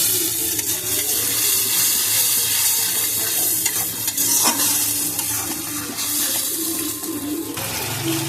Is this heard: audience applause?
no